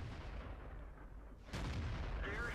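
A VK 30.02 D tank in World of Tanks fires a high-explosive shell: a quiet engine hum, then a single loud, sudden cannon boom midway that leaves a lingering rumble.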